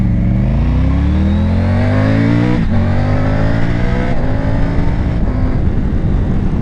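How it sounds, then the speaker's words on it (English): A Triumph Tiger 900 Rally Pro's three-cylinder T-crank engine revs up loud and close, its pitch climbing steadily, then dropping at a gear change before pulling hard again. "That T-crank 3-cylinder sounds absolutely brilliant."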